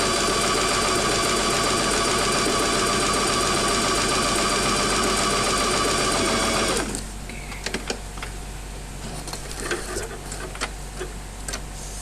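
A Singer 2250 sewing machine stitches fabric in a loud, steady mechanical run for about seven seconds, then stops, leaving a quiet room with faint clicks.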